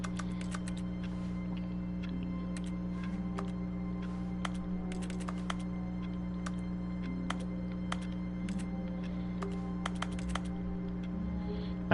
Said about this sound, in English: There's typing sounds going on